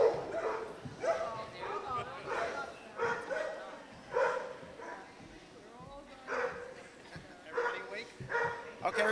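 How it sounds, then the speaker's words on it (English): A small teacup Yorkie yips and barks repeatedly in short bursts, close and fairly loud, with a few whimpery notes between barks in an indoor public setting. "She's a little teacup Yorkie."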